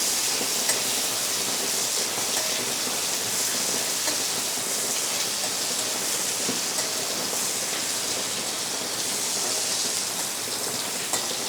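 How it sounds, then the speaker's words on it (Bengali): Prawns fry lightly in mustard oil in a wok, giving an even, close hiss and crackle that holds steady throughout, with small spits here and there and no voices. "চিংড়ি মাছটা আমি হালকা করে ভেজে নেবো"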